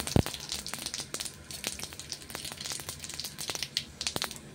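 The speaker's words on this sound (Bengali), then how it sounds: "তেল দিয়ে দিচ্ছি, কয়টা পাঁচফোড়ন দিয়ে দিচ্ছি" Panch phoron spices crackle in hot oil for a garlic pickle, with scattered sharp pops and a steady fizzing sizzle. One loud pop at the start stands out, and the crackling stays close and fairly quiet throughout.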